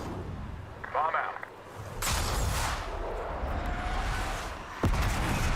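Bombing run from an F-117 stealth fighter airstrike in Call of Duty Black Ops 6, a loud sustained rumbling blast wash with a sharp crack near the end, under a bed of game battle noise.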